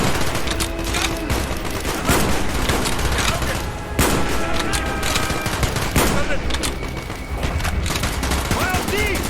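Rapid bursts of automatic gunfire and shots ring out constantly in the Call of Duty Black Ops video game, loud and dense throughout, with soldiers' voices calling out over the shooting.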